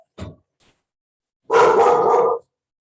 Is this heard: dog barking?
yes